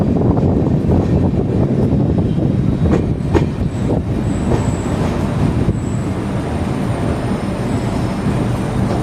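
The Island Express runs from Thrissur toward Kollam, heard from inside a coach as a loud, steady rumble of wheels on rails with rhythmic clatter and occasional faint metallic squeals.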